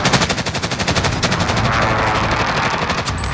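Rapid automatic gunfire in a first-person shooter match, loud, close bursts of fast rhythmic shots that run almost continuously, with a brief lull in the middle.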